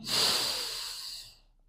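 A single long exhale during a yoga breathing exercise, close and breathy, swelling quickly then tapering off into silence.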